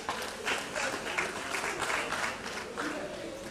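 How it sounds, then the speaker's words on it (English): Audience applause at a professional managers' summit on building resilient organizations, a steady wash of clapping across the room with a voice talking over it throughout. "A round of applause for them, please."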